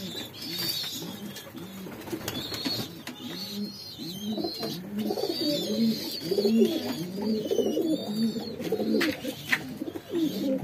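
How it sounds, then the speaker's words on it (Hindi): Pigeon chicks begging for food in a breeding enclosure, a dense stream of repeated soft cooing and wheezy calls close by, with occasional higher chirps and no talk. "ये देखिए दाना मांग रहे हैं बच्चे सारे"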